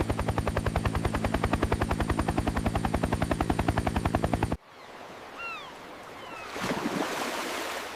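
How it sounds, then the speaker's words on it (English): A helicopter's rotor beats out a loud, rapid, even thudding for about four and a half seconds, then cuts off abruptly into quieter water and outdoor ambience with bird chirps. "The helicopter goes whoop."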